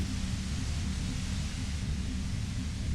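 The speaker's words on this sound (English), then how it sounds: "You hear through the white noise. It's especially bad suddenly." Steady, dense hiss of white noise fills the game audio of Deus Ex, with a low rumble underneath, constant and loud from start to finish with no talk.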